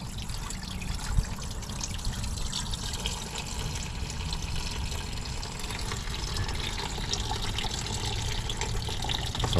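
Water draining from a Chevrolet LT1 engine block during a coolant flush, a steady close trickling splash running continuously without speech.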